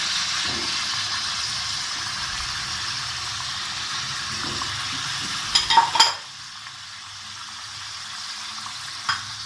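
Chicken sizzles in a pan with tomato paste and chili garlic sauce, a steady close frying hiss with a brief burst of clattering stirring near the end before the sizzle settles quieter.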